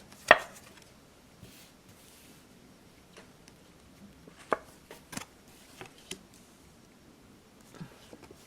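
Tarot cards handled and split into piles at a table, heard as a sharp tap at the start, then scattered soft taps, slides and light knocks of card on card, fairly quiet with no talk.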